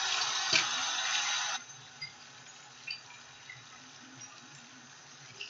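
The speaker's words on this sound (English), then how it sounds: "I'm going to put them in water, and then I'm going to rinse off my tweezers." Tweezers rinsed under a running tap, with a loud burst of water flow for about a second and a half, then quiet with a few small drips and clinks.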